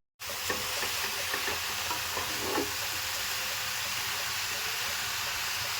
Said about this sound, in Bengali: দিয়ে এটাকে আমি ভালো করে মিশিয়ে নেব